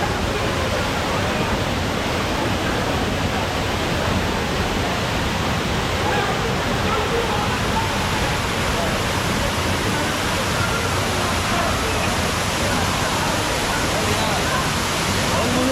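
Kumbhavurutty waterfall in South India roars as a dense, constant rush of falling water, loud and close, with no breaks across the whole stretch.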